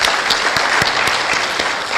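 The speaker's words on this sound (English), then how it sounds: "Could we please give them a round of applause?" Round of applause from a seated audience at a Kenyan government strategic plan event, dense continuous clapping with some sharper individual claps standing out, steady and close.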